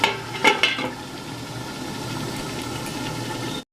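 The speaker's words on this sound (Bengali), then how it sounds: "মাংসটা কষাতে কষাতে একটু চাপা দিয়ে দিলাম" Mutton cooks in a covered pan, giving a steady muffled sizzle and hiss throughout. A few clanks and stirring knocks come near the start, close and fairly loud, with no talk.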